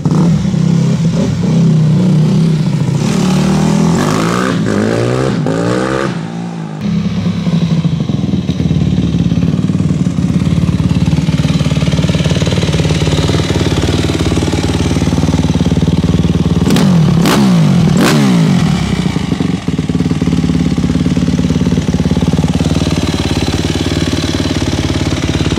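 A 2006 Yamaha YZ250F dirt bike engine revs loud and close, a steady buzzing four-stroke drone with several sharp throttle blips rising and falling throughout.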